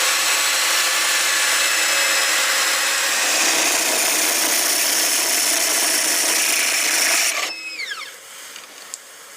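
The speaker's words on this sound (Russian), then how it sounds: "Вот так вот просверлили отверстие." A power drill bores a hole during the installation of an MDV Classic Inverter split-system air conditioner: a loud, close, continuous high whir and grind for about seven seconds, then an abrupt spin-down with a falling whine and a couple of faint clicks.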